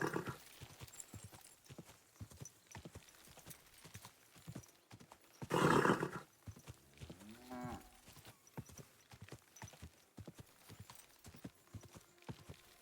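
Horse hooves clip-clop in Kingdom Come: Deliverance in a steady, even rhythm, fairly quiet, with a brief louder rushing burst partway through.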